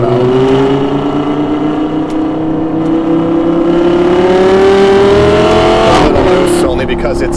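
An Audi R8 V10 on winter tires, driven fast around a roundabout in cold weather, holds a loud, near engine note that climbs steadily in pitch, then breaks into a brief burst of tire and shift noise near the end.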